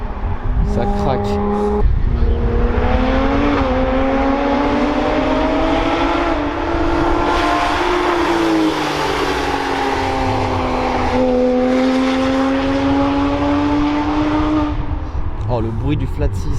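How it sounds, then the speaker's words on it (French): A flat-six sports car accelerates hard up a mountain road during a supercar run at Chamrousse, its engine howl climbing steadily through the gears, loud and close, with a short pause for a shift midway. "Oh le bruit du flat 6, incroyable"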